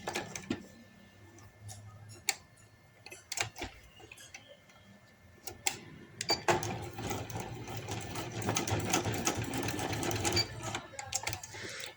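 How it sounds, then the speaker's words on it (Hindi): Sewing machine stitching back and forth over the joint of an elastic band for palazzo pants, a run of rapid mechanical ticking that starts and stops, then settles into a steady, denser whir in the second half. "इस तरह से आगे पीछे करते हुए इसकी सिलाइयाँ लगा लें"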